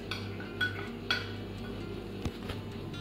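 Drained tinned tuna tipped into a bowl of potato mix, with metal-on-bowl clinks and scraping knocks against a steady kitchen hum, a few sharper taps standing out near the start.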